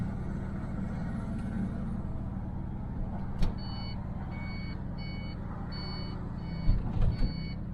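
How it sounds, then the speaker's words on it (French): Inside an Iveco truck cab, a rapid electronic turn-signal ticking in repeated short bursts rides over a steady low engine drone, with a couple of brief thumps. "Clignotant là, il rend dingue."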